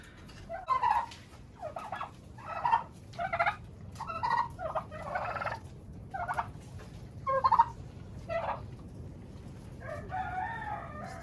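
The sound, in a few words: turkeys gobbling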